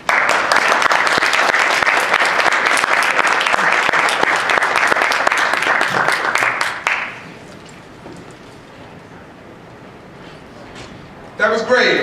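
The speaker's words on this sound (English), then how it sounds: "Give another round of applause for me." Loud, dense applause from an audience at a legislative conference in New York fills the first seven seconds, then cuts off abruptly to a quiet room before a brief burst of noise returns at the end.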